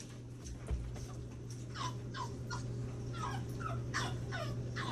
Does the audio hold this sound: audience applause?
no